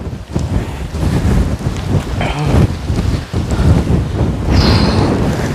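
Strong gusting wind batters a hilltop on a hiking trail as rain clouds pass, loud roaring buffets hitting the microphone in waves with brief rumbling swells, and nobody speaks.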